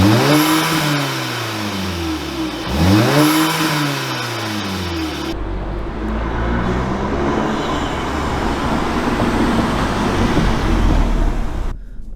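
An Audi A3/S3 with a turbo inlet pipe and turbo muffler delete revs loudly and close, rising and falling through two sharp sweeps, then settles into a steady, throaty drone.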